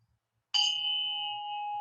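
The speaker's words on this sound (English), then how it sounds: "I'm going to use a little prop, my bell, because it's a nice start." A small hand bell is struck once and rings out with a bright, clear tone that sustains steadily, close and fairly loud in a quiet room.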